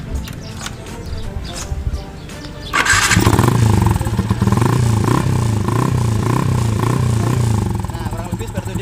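A bore-up Yamaha Vixion motorcycle on its stock exhaust starts up after a stretch of quieter background sound, then settles into a loud, steady, throbbing idle that fills the rest of the clip.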